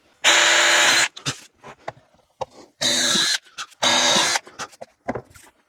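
A power drill bores through wood in three loud, close bursts of about a second each, separated by short clicks and handling knocks.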